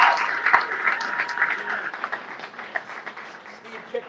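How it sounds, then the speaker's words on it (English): A crowd at an Ohio Democratic primary campaign event claps and cheers for several seconds, a dense burst of applause that rises and thins unevenly with speech mixed in. "Give Steve a round of applause."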